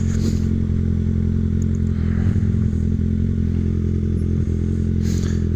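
A 2016 Kawasaki ZX6R 636 sport bike engine drones steadily at speed, a loud continuous low rumble with faint rattles and clatter over the run and no talking.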